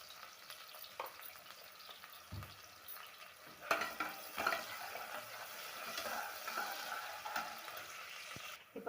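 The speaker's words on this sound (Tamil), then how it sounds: "ஆனியன் சேர்த்து வதக்கிக்கலாம்." Onions sautéing with a pinch of salt in a pan for a vegetable biryani, a steady soft sizzle with occasional stirring scrapes and clinks, fairly quiet and continuous throughout.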